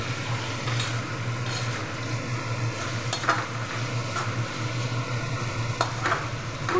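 Vegetables sizzle in a pan as the last water dries off. A continuous close frying hiss carries a few scattered scraping stir strokes, with no one speaking.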